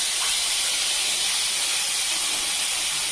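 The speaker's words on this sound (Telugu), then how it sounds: "ఈ ఆయిల్ ఉంచుకొని చింతపండు గుజ్జు వేసుకుందామండి" Tamarind pulp hits hot tempering oil with a loud, continuous broadband sizzle and hiss, close and steady throughout, no voices.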